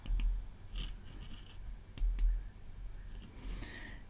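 A computer mouse clicks a few times, sharp and close, with single and double clicks spaced irregularly over a quiet room hum, and no talking.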